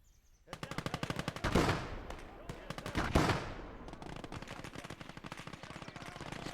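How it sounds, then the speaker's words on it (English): An enemy MG machine gun in the Gates of Hell video game fires long rapid bursts, loud and sharp, with two heavier booming impacts mixed in and the rattle continuing steadily to the end. "So we know that there is an MG over there."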